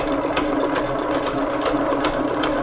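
Electric mixer running on speed 7, whisking madeleine batter; a steady, fairly loud motor whir with faint rhythmic ticking, heard alone without talk.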